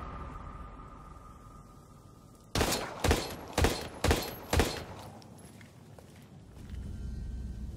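Five loud shotgun blasts in the survival horror game Daymare 1998, fired in an even rhythm about half a second apart, each with a sharp crack and short decay, set against quiet ambient hum.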